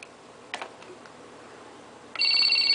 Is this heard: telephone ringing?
yes